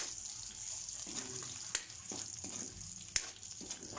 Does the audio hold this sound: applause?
no